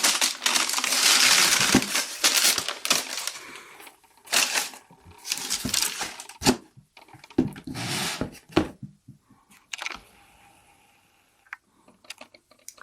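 New Nike Air Force 1 Low Brushstroke sneakers being pulled from their box and packaging, with loud bursts of crinkling paper and rustling cardboard, alternating with quieter handling pauses, close up and without talk.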